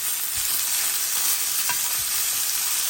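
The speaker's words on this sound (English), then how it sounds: "You just brown the outside, sear the outside." Beef for stroganoff sears in a hot pan with a loud, steady sizzle and crackle, and occasional stirring scrapes sound close by.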